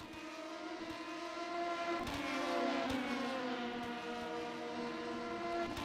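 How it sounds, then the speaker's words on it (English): LMP2 prototype race car engines at Spa-Francorchamps in the rFactor 2 racing game, a steady, loud, high-pitched engine drone with rising and falling harmonic whines as cars pass, continuous for the whole stretch with no talk. "Just listening to the sound of the engines."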